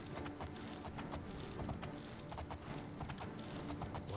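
Horse hooves clip-clopping at a steady, rapid gait while riding in the video game Oblivion, close and continuous over ambient game background, with no talk.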